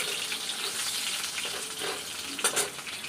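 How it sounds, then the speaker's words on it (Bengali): Potatoes frying in a pan in a home kitchen, a steady close hiss and crackle of hot oil with a few sharper spatters near the end, no talking. "আর এই যেখানে আলু ভাজছি"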